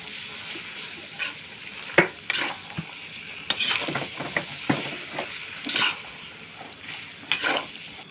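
Pad see ew stir-fried in a pan with sugar and oyster sauce, with busy clattering of a spatula on metal and a low sizzle, close and steady, no voices.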